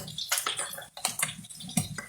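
Thick almond sauce for a Oaxacan chicken almendrado poured into a blender, a series of wet splashing and glugging pulses over about two seconds, close and moderately loud, with no talking.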